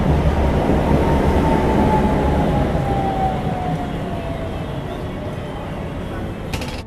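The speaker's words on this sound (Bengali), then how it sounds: "এটা হলো সেই ক্যাপসুল ট্রামটা যেটার কথা বলছিলাম" A small capsule-type tram rolls past on a Prague street, a loud rumbling passage with a faint wheel squeal that slowly recedes and fades over several seconds.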